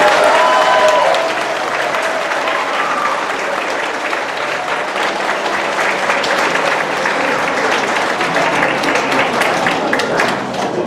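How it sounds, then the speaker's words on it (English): A sixth-grade middle school assembly bursts into loud, sustained applause for a motivational speaker, with a crowd clapping continuously for about eleven seconds and a brief voice near the start. "let's give Mr. Peace a big round of applause"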